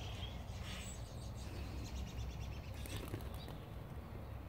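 Faint birds, including blackbirds, chirp and call in the distance outdoors, scattered and soft over a low steady background hum.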